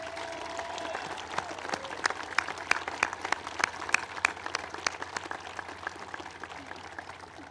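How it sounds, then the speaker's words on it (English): Troops at Nellis Air Force Base give their families a round of applause, with steady crowd clapping running throughout and a few sharper individual claps standing out near the middle. "Let's give our families a round of applause."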